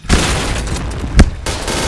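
Shotgun fire in the Point Blank first-person shooter game, with loud, close booming blasts over dense continuous gameplay noise and a sharp heavy shot standing out near the end.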